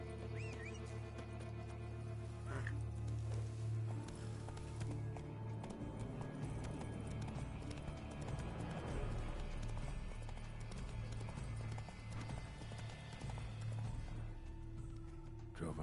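Roach the horse gallops in The Witcher 3, hooves beating in a fast steady rhythm under a low game soundtrack, fairly quiet and continuing throughout.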